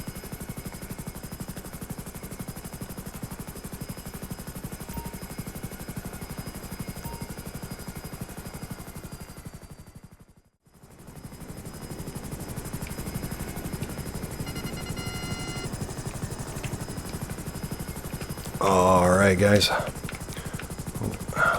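Hunter attack helicopter in GTA 5 with a steady rotor and engine drone, a short dropout midway, and a louder burst near the end, while someone talks over it.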